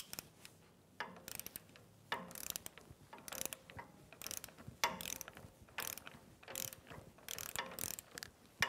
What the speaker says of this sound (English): Now let's go ahead and tighten this down and torque it to 70 foot-pounds.